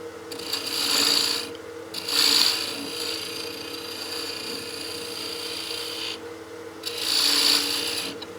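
Box scraper cutting side grain on a wood lathe: a close, rasping scrape that comes in several bursts of a second or so, over the lathe's steady running hum, with short gaps between passes and no talk.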